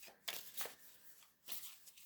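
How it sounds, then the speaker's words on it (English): Tarot cards are shuffled in short bursts of crisp riffling and flicking, three quick rounds close by, with quiet gaps between and no speech. "We'll shuffle a little bit more for Sagittarius."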